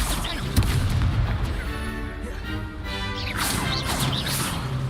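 Blasting spell explosions in the video game Hogwarts Legacy burst in quick succession, with booming crashes, whooshing magical sweeps and rising tonal effects layered together, loud and close.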